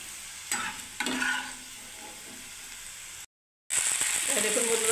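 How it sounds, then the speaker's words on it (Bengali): Fried okra scooped out of a wok with a spatula, giving scraping stirs and faint sizzling with a few clinks, briefly cutting to silence before frying noise returns. "এবার আমি সব তুলে দিচ্ছি বন্ধুরা কড়াই থেকে"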